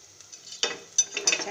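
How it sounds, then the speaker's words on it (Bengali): Chopped onion, three chilies and garlic tipped into hot oil, a quiet start then a sudden burst of sizzling with stirring scrapes, close up and without talk. "এখানে আমি পেঁয়াজ কুচি তিনটা মরিচ আর রসুন কুচি করে নিয়েছি মরিচগুলো একটু আগা কেটে দিয়েছি এর মধ্যে ঢেলে দিলাম"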